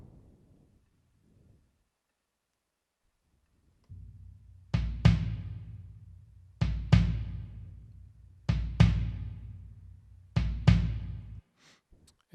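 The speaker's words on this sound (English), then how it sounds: "on the kicks, I'll let you hear what the raw tracks sound like." Raw kick drum tracks from a worship music mix: a low sustained tone fades in, then four pairs of punchy thumps land at a steady pace, loud and isolated, before a brief tail of scattered hits.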